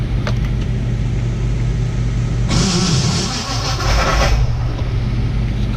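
Vortech-supercharged white 5.0 Mustang on a dyno, with the starter grinding against a loud steady engine drone and a brighter rasping burst partway through, close and loud with no talk.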